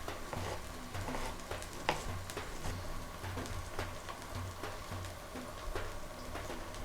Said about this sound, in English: while the fish is cooking on one side right here